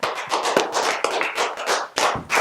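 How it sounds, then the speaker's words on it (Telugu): A group of children clap together in a quick burst of applause, the dense patter of small hands rising and falling over about two seconds, close and lively with a brief renewed flurry at the end. "Very good, claps."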